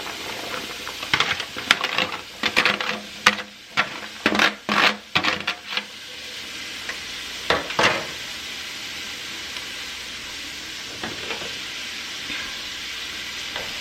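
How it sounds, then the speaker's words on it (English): Vegetables sauté in melted butter for a seafood dressing: a run of sharp spoon scrapes and clatters over a bright sizzle, then a quieter steady frying hiss with a few more stirs. "we're just going to saute these down until they're translucent and softened a bit"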